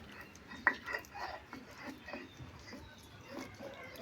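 Fried jackfruit seeds being ground by hand on a stone slab (pata), giving uneven scraping and grinding strokes with occasional sharper knocks, close and moderately loud, with no speech.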